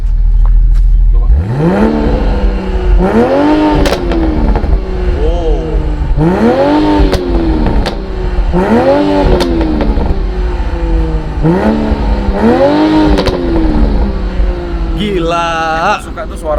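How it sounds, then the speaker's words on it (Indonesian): A Toyota GR Supra in sport mode revs repeatedly from behind the car, with about six rising and falling engine blips over a loud, rumbling idle, close and dominant, with a brief burble at the end. "Aku suka tuh suara tarikan pertama ngerambelnya itu loh."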